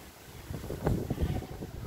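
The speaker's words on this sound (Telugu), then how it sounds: "ఎంత గాలి వస్తుందో." Strong gusty wind rumbles and buffets the microphone, with a low roar that swells and dips.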